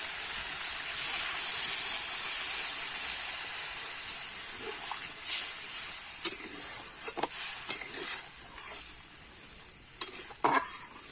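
Frying spice masala for pea and potato ghugni hisses and sizzles loudly and steadily once water hits the hot pan, with scattered clinks and scrapes of stirring later on, no voices.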